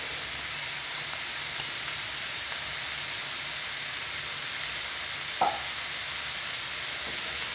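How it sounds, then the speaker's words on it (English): Ground beef and onions fry in a pan for a cottage pie, a steady even hiss of sizzling with one brief clink of a utensil partway through. "so we've got our beef in here. We'll break that up a little bit. Nothing to it. And I'm going to put our onions in here while I'm at it."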